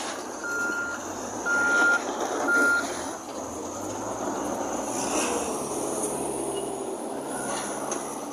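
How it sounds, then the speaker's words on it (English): A truck tractor at an aggregates yard pulls out, with three clear reversing beeps early on over a low diesel rumble and rattle that carries on steadily, moderately close outdoors. "Tractor's about to leave."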